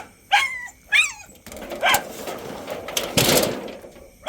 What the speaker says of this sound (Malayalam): വീട്ടിലെ 3 പട്ടിയുണ്ട് കേട്ടോ